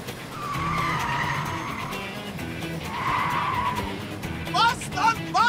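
A car fleeing pursuers, driven hard with tires skidding and squealing in long screeching sweeps, engine pushing underneath, while someone shouts excitedly in Turkish over it.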